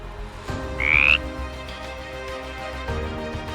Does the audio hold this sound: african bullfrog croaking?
yes